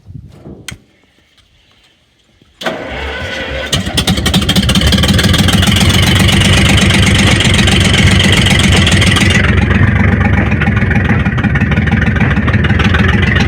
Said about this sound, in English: I'm hoisting the bucket.